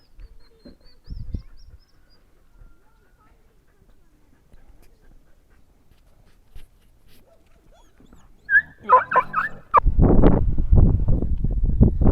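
Dogs met while walking out to find calves stay quiet at first, then break into close, loud barking mixed with whimpers near the end, with people talking over them.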